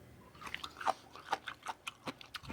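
Close-up crunchy chewing of homemade sauerkraut, a quick series of crisp bites and wet munching sounds repeating steadily for a couple of seconds.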